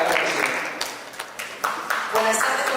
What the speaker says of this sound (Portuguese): Un fuerte aplauso para los 4 panelistas y nuestra líder de acá